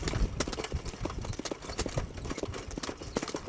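Racehorses trotting on a hard surface during track work, a steady busy clatter of overlapping hoofbeats at close range with no talking.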